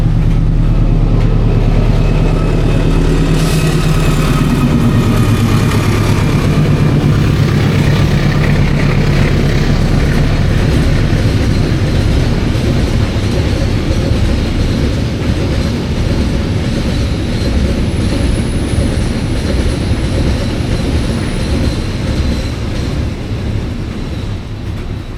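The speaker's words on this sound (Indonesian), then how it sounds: "Kereta barang itu pasti rutin jam-jam segini pasti loh." A freight train passes close by in a loud, steady rumble with rolling wheel noise and faint clatter sustained throughout, no voices over it.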